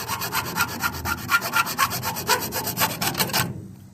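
A cutter sawing through the rear speaker mount of a VW New Beetle, fast rhythmic rasping strokes grinding close and loud for a few seconds before stopping abruptly.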